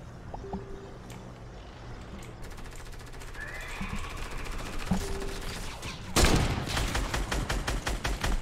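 Gunfire in Fortnite during a zombie round: scattered single shots early, then a sharp loud burst followed by rapid repeated firing near the end over a steady game background.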